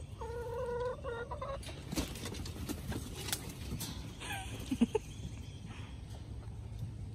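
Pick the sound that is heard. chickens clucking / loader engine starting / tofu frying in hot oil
chickens clucking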